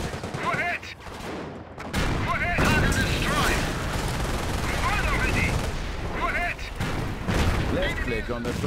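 Rapid, sustained gunfire and booming blasts from a Panzer tank and battlefield in the WWII strategy game Company of Heroes, loud and dense throughout, with voices talking over the combat.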